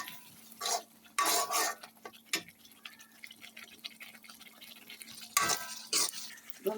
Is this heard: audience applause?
no